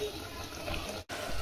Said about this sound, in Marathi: आता यात पाणी सोडायचे